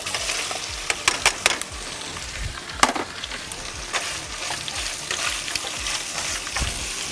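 Vegetables fry in a pan at a camp cookout, a steady close sizzle with scattered sharp pops and crackles and occasional stirring scrapes, with nobody talking.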